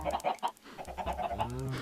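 Chickens in the video game Minecraft cluck in short, repeated bursts, close and fairly clear, with a faint voice mixed in near the end.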